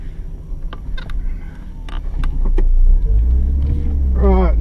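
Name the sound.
1990 Nissan Skyline R32 GTS-4 engine while reversing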